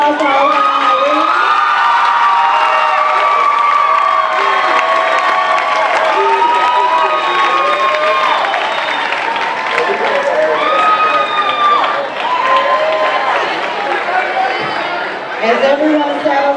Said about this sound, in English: Let's have another round of applause for our honorees.